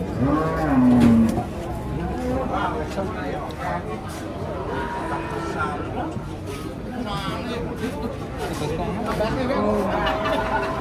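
A cow with a broken leg moos loudly near the start, then a busy crowd murmurs and chatters over livestock noise for the rest.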